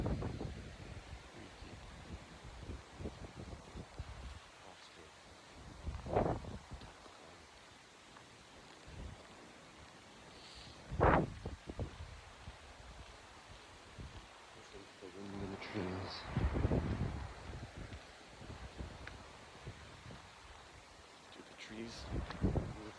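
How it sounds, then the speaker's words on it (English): Wind blows through trees outdoors as a steady broadband rush, with a few louder gusts swelling and fading over the background. "Trees with the wind."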